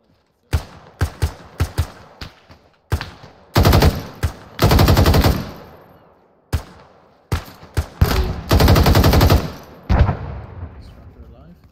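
Bursts of automatic rifle fire and single gunshots in the military shooter game Arma 3, loud and close, coming in rapid volleys with short pauses between them.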